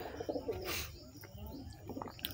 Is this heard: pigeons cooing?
yes